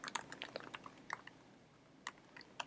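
Typing on a computer keyboard, a sparse, irregular run of soft clicks and taps with short pauses between bursts, quiet and close, no voices.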